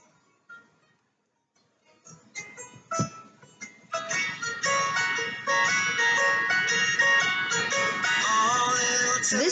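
A melodic song fades in from near silence and builds to a steady, moderately loud level, with bright tones carrying the tune.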